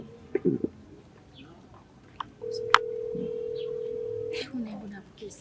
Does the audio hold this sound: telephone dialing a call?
yes